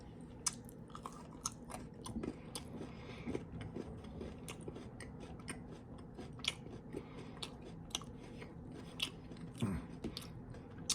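Close, crisp chewing and crunching of a Nestle Crunch chocolate bar, steady bites with sharp crackles repeating throughout, no talking.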